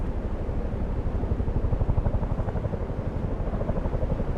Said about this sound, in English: He's in a chopper now. He's in a Chinook.